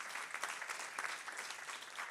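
An audience at a British Columbia economic and talent-development event gives a short, steady round of applause, dense clapping throughout without talk.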